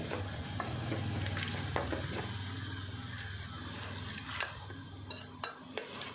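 A spoon or stirrer scrapes and clinks softly against a container while fragrance oil is mixed into melted neem soap base, with faint continuous stirring and occasional light taps.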